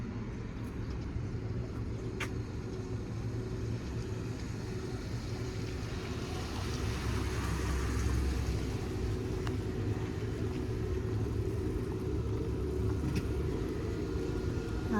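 Low rumbling of a car engine arriving outside a hospital in Japan, steady and moderately distant with a slight swell in the middle, no voices.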